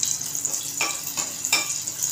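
Hot oil tempering with curry leaves and asafoetida sizzles in a pan while cooking misal pav: a steady close crackling fry with a few sharper bursts of spitting, no voices.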